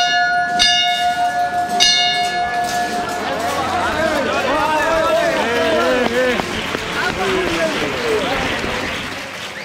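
A procession bell rings during Semana Santa in Málaga, striking a few clear tones at the start amid a loud, dense crowd of cheering and clapping voices.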